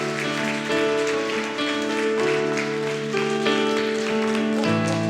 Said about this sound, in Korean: 영광의 박수 올려드립시다